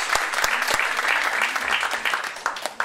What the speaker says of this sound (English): Give these people an applause.